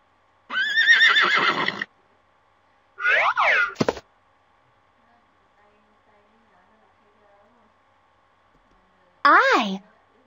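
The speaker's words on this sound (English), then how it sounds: "Horse." A horse neighs and whinnies in three separate loud bursts, the first long and shaky, then a shorter one and a final rising-falling whinny, close and with silence between, as in a children's letters game.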